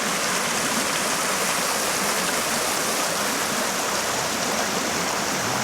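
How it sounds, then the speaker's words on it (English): Flood water of a river dammed at a steel bridge rushes in a steady, loud, unbroken roar that fills the whole clip with no voices. "Listen to the sound of the water you dam."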